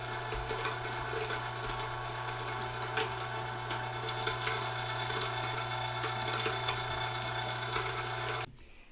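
Meat grinder working through chicken thighs for raw pet food, a steady motor hum with a constant low drone and grinding, crunching texture, running close and continuously before stopping abruptly near the end.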